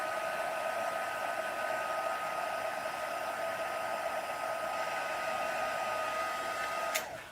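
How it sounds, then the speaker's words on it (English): A craft heat tool blows hot air over a freshly stamped card, producing a loud, steady whirring hiss with a constant tone that runs unbroken for several seconds before cutting off abruptly. "So I've just hit that with the heat tool"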